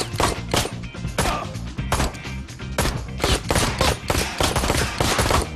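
Rapid, loud gunfire in the video game Ride To Hell Retribution as masked enemies are shot, a dense run of close, repeated shots with hardly a pause.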